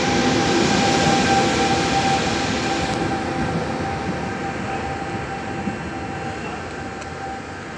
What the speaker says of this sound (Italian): il treno in transito a binario 4